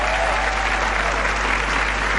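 A studio audience at an Indonesian dating game show applauds in a dense, continuous wash of clapping, loud and even from start to finish with no pauses.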